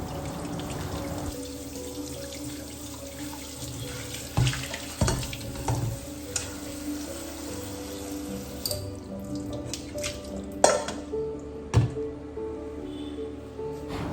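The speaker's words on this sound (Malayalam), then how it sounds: "അത് ഞാൻ വെള്ളത്തിൽ ഒന്ന് ഊറ്റിയെടുക്കുകയാണ് കേട്ടോ." Cooked noodles being drained and rinsed under running tap water in a kitchen sink, a steady close splashing stream broken by several sharp clunks and knocks of the pot.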